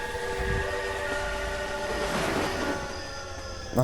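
A train horn in the video game Death Park sounds with a sustained harmonic tone over low rumbling, ending in a sudden louder thump.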